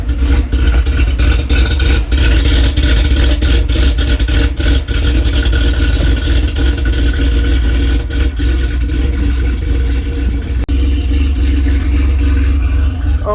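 A restored 1986 Porsche 911 engine catches with a clattering crank, then settles into a loud, steady, slightly lumpy idle close by, with no talk over it.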